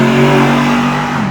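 A 2014 Mercedes-Benz SLS Black with a 6.2 litre engine revs hard, a loud, close, sustained engine roar with a steady low tone, heard alone.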